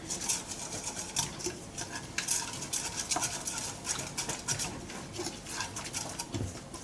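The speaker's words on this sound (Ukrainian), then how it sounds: "все змішуємо" A spoon scrapes and clinks steadily against a bowl as a yeast starter of water, sugar and flour is stirred, with quick repeated strokes and no talking.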